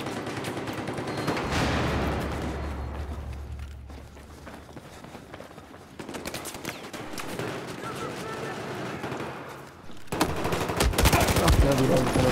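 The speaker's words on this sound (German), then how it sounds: "Ach ja, wieder ein kleiner Schuss los." Gunfire crackles in the first-person shooter Battlefield 4 during online multiplayer, with rapid automatic bursts and scattered shots mixed with footsteps and game ambience, growing louder and denser toward the end.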